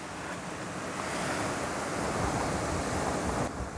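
Strong wind blowing across an open outdoor shooting range roars steadily as a broad, rushing buffet against the microphone, loud and continuous with no voices.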